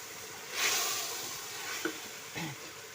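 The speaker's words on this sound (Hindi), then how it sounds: "अब हम इसकी भुनाई करेंगे।" Vegetables and chicken stock stir-frying in a pot for pulao, giving a steady close sizzle and hiss with a few brief scrapes of stirring, no voices.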